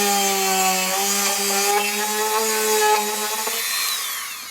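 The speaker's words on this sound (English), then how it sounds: "I'm going to drill a hole." A Dremel hobby drill spins steadily as it bores a hole, giving a continuous high, whining buzz with a slight pitch drift and a gradual wind-down at the end, loud and close, with no speech over it.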